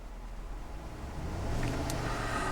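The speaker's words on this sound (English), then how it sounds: "I'm going to rev the engine." A white 2011 Chevrolet Suburban LTZ 2WD with its 5.3-liter V8 idles with a low, steady rumble, then swells into a moderate rev partway through, heard fairly quietly without any talking.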